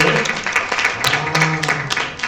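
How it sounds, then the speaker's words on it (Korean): An audience at a book concert applauds to welcome a company team leader to the front, a dense steady wash of clapping with faint music-like tones underneath. "박수로 맞아주세요."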